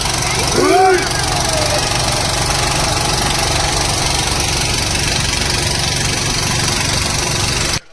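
A motor boat engine drones steadily and loudly close by while cruising on the Narmada river at Omkareshwar, a constant mechanical hum that cuts off abruptly at the end, with a brief voice near the start.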